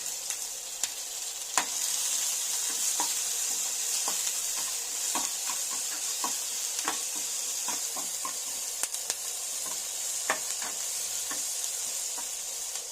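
Onions sautéing with salt in a pan for sundal, a steady sizzle with light stirring and scraping ticks scattered throughout, close and alone with no talk.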